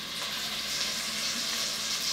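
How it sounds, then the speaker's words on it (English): Short ribs sear salted side down in hot oil in a pan, giving a steady, close, loud sizzle with no talking. "And you can hear them just sizzle away."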